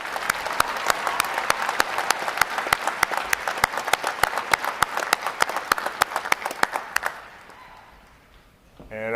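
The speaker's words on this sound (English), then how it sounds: "How about a round of applause for the outstanding performance today?" A large crowd applauds at a Navy boot camp graduation at Recruit Training Command, Great Lakes, Illinois, with dense sustained clapping and loud individual claps standing out for about seven seconds before it fades out.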